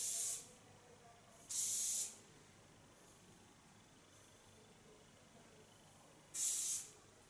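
Short hissing bursts from a can of soft Lanza hairspray, three separate sprays with quiet gaps between, close up and with no talking.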